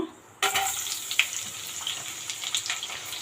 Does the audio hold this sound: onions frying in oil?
yes